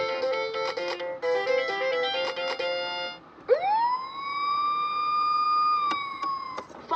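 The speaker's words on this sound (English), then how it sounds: "The fire truck is on the way to put out a fire." A toy steering wheel plays a fire truck siren effect: a short electronic jingle of beeping tones first, then a rising wail that holds steady and sounds close and clear.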